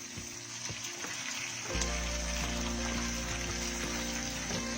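Long green chilies and milkfish (bangus) frying in a pan, a steady close sizzle that jumps louder partway through as the fish goes in, then holds a dense crackling hiss with small pops.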